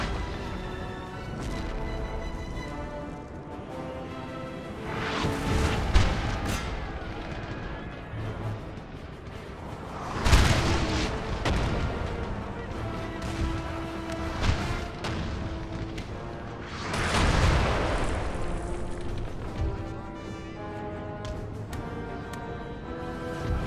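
Cannon artillery booming at intervals across a Napoleon Total War battle, several heavy distant blasts rising over a continuous musical score and battlefield din.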